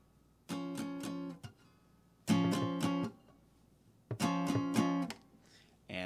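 Open guitar chord shapes, fretted on the 4th and 3rd strings, strummed and left ringing unmuted, three separate sustained chords, each allowed to sound about a second before stopping.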